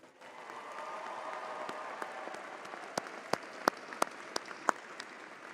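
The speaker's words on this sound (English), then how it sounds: "So please give them a big round of applause." A large audience at the Marquette University 2024 commencement applauds the graduates, a broad sustained wash of clapping that thins toward the end into a few loud, separate claps.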